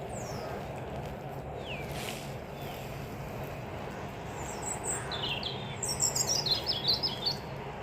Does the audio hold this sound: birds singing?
yes